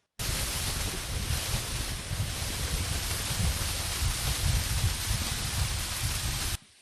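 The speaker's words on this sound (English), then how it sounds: "Ezimo waterfall with sustained water pressure, gushing out like thick rainfall, cascading the spread of the site" Ezimo waterfall in Nsukka, Enugu, Nigeria, gushing under sustained pressure like thick rainfall, gives a steady, loud, broadband roar of falling water that does not let up.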